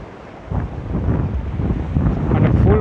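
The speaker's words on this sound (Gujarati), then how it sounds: "અને આ તમે મોજા જોઈ શકો છો. ઓહો ભાઈ સાહેબ, એટલે તગડા મોજા આવે." Big sea waves surge and crash along the shore at Dwarka, a rising rough roar mixed with strong wind buffeting the microphone, no voices.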